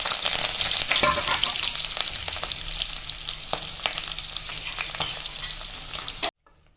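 Garlic, green chilies, curry leaves and fenugreek fry in sesame oil with a loud, continuous close sizzle and occasional stirring clicks, then cut off abruptly into silence.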